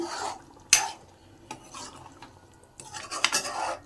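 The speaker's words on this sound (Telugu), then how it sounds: "ఇప్పుడు ఇందులో చింతపండు రసాన్ని వేసుకుందాం ఒకసారి బాగా కలుపుకుందాం" Spoon stirring and scraping in a pot as tamarind juice is mixed into a Nellore-style mutton and okra curry, with a few sharp clinks amid softer swishing strokes and no talking.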